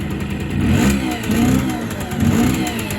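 A 1986 Honda MT5 (MT50) moped engine runs close and loud after a cold start, its two-stroke buzz swelling in two rev surges and dropping back to a rough, throbbing idle.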